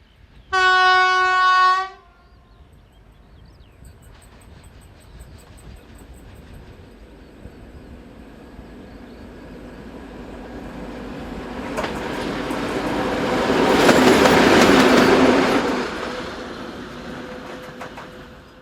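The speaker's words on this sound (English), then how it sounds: "approaching the camera is number ST441204, running light engine towards Nice" Class ST44 diesel locomotive ST441204 running light engine toward Nice, opening with a loud two-second horn blast, then a low rumble that swells as the engine draws near, peaking with clattering rail noise before easing away.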